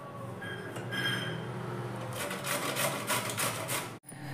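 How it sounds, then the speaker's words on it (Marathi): Cabbage is rubbed against the large side of a hand grater for Manchurian fritters, giving a soft rasping scrape that grows into brisk repeated strokes before a brief pause. "ही मोठी बाजू इकडून मी किसून घेणार आहे"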